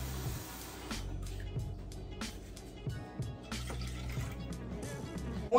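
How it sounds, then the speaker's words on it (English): Tap water running steadily into a cooking pot to top it up for boiling salted water, a continuous hiss and splash with a faint clink near the end. "I'm still gonna put a little bit more water though, because that doesn't look like 3/4"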